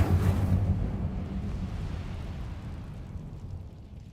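A fire spell cast in Hogwarts Legacy erupts with a loud whooshing burst that trails into a low, rumbling roar, fading gradually over several seconds with no voice over it.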